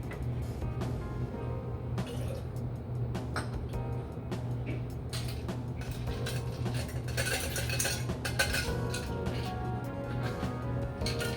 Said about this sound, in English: Put the ice in the tin, ice in the shaker.